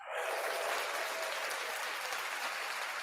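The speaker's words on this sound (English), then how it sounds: "Give yourself a clap." Steady applause from a live audience, continuous dense clapping at an even level throughout, with no voices over it.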